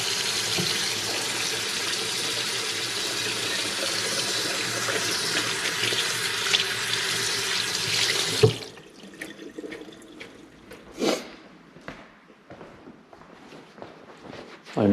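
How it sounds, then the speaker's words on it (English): Steady, loud rush of tap water pouring into a kitchen sink for several seconds, then it shuts off, leaving quiet clinks and soft handling noises. "It gets a little bit loud when the water is running"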